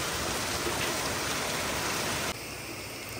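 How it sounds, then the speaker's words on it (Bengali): Heavy rain pours steadily outside, a dense, even hiss of falling water that stays loud throughout, dropping slightly in level near the end. "বাইরে কি সুন্দর ঝমঝম করে বৃষ্টি করছে"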